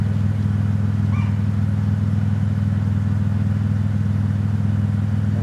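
Supercharged 2001 Toyota 4Runner running with no muffler, a loud, steady low-pitched exhaust drone at idle, close up with a brief faint clatter and no speech.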